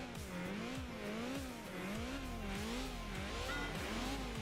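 Race car engine in Enthusia Professional Racing, a lightweight car of about 180–190 horsepower, droning steadily with a wavering, cyclic pitch that rises and dips repeatedly, loud and continuous with no talk.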